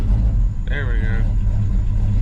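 A car engine rumbles low and steady after being coaxed to start with the throttle held to the floor, with a brief voice heard over the running motor.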